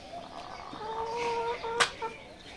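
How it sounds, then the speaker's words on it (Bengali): Layer hens in a coop making soft, drawn-out clucks and murmurs at close range, with one sharp brief clatter partway through. "এগুলো হচ্ছে লেয়ার মুরগি।"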